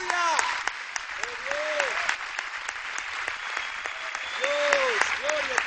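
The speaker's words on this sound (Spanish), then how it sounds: "un aplauso al Señor como Él merece" A church congregation applauds the Lord with sustained clapping, with voices and shouted praise rising over it in bursts.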